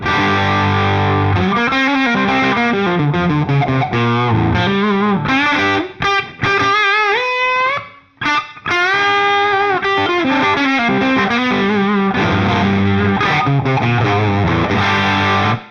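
Heavily distorted electric guitar through AmpliTube 5, panned about 60% each way for width, plays a riff with sliding, bending notes, loud and thick, with a brief drop-out partway through.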